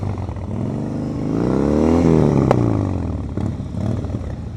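A motorcycle rides at slow speed during a riding-skills practice session, its engine droning steadily, then revving up and falling away in a smooth rising and falling sweep, loud and close.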